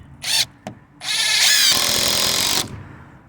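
A Ridgid subcompact impact driver drives the same screws into pre-drilled wood: two short, loud whirring bursts, then a sustained hammering run of about a second and a half, close up with no speech.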